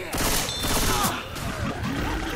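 Dense rapid gunfire crackles in a zombie shooter video game, a loud continuous fusillade with players' voices faintly mixed in.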